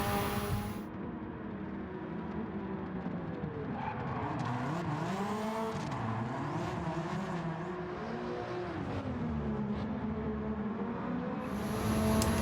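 A four-wheel-drive car in Gran Turismo 7 slides rally style around a bend, its engine droning and rising and falling in pitch while tires squeal steadily through the drift, loud and continuous.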